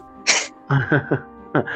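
One sharp, loud sneeze sits close up, followed at once by a few short vocal sounds that follow it.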